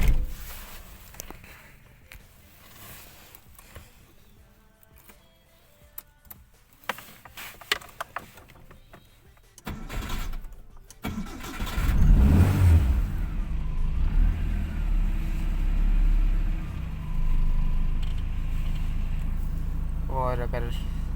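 A Nissan B12 car with a swapped-in larger engine starts quietly. Small clicks and thumps lead to a loud, steady engine drone with a rev swell near the middle that holds to the end, close to the car.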